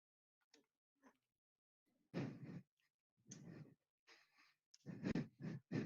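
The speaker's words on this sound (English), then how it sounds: "Heavy breathing." Heavy, audible breaths come in bursts, a few faint puffs first and then loud close gusts of breathing repeating through the end, with no other sound around them.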